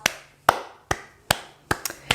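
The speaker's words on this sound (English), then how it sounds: "can we have a round of applause?" Six sharp, evenly spaced claps roughly every 0.4 seconds, close and isolated rather than a crowd's applause, with a faint steady hum underneath.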